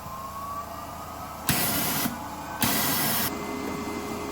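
Foredom Wolf sandblaster fired in two short hissing blasts of about half a second each to clear its nozzle, loud sharp bursts over a steady low compressor hum.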